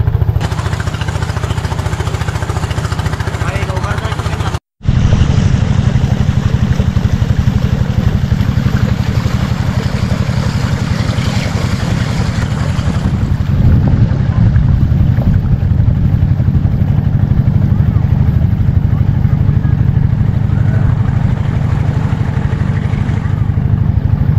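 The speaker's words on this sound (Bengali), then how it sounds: "এই যে দ্রুত গতির যান দেখেন, নৌকা ইঞ্জিন চালিত, দ্রুত গতিতে যাচ্ছে" An engine-powered boat speeds past on a river near a char, its loud motor droning steadily and close throughout after a brief dropout.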